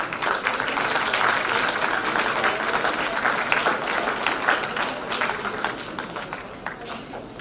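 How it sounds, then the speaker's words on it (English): Sustained applause from a crowd at an Indian Army national quiz semi-final, dense clapping that stays steady for several seconds then starts to fade slightly. "A big round of applause for the school Bangalore."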